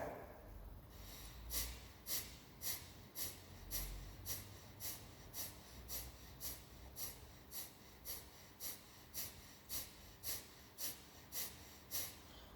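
Bhastrika bellows breathing: a steady series of about twenty forceful, rapid nasal breaths, evenly spaced and close, sharp hissing pulses over a faint background, with no talking.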